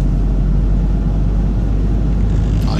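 A Peugeot 508 RXH Hybrid4 accelerating in silent ZEV electric mode gives a steady, close, broadband road and motor rumble that holds even throughout, with no voices.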